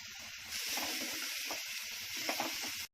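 Onions frying in oil in a pan over a medium gas flame, a steady close sizzle with soft crackles and a few stirring scrapes, running alone for about two and a half seconds before cutting off.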